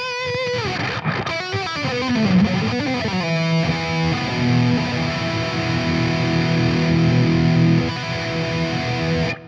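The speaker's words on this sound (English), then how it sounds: "it is a pretty amazing sounding guitar" A Strat-style electric guitar rings out with a distorted tone: a few bent notes and then sustained, heavily driven chords that hold and fade.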